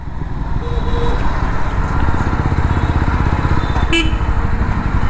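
A Jawa 42 FJ 350 motorcycle ridden in third gear: a loud, close, steady engine thrum with rhythmic exhaust pulsing and wind noise, plus a short horn-like tone near the end.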